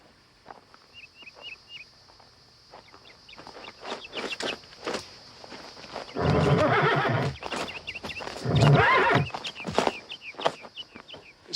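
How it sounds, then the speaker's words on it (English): A horse neighs in loud, strained bursts in a Wild West setting, with scattered hoof clip-clops and chickens and a rooster clucking in the background. "This here's a damn Injun horse."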